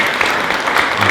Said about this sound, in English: Let's give them a big round of applause for their film